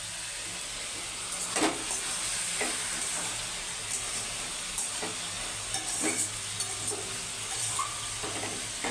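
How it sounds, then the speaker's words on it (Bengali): Yard-long beans with grated coconut fry in a pan, a steady close sizzle and hiss broken by repeated scraping stirs of a spatula. "নারকোল দিয়ে বরবটি ভাজা"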